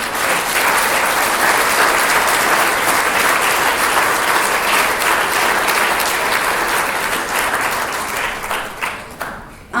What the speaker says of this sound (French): je pense que ça vaut une main d'applaudissement